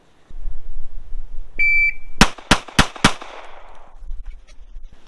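A shot timer beeps, then four sharp gunshots crack in quick succession at a shooting range, close and loud, with the last echoes fading into quiet.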